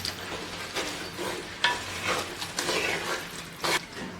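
A spoon stirs spiced chickpeas loosened with half a glass of water in a pot, making wet swishing strokes in several separate bursts over a soft background hiss. The sound is close and moderately loud, with no talking.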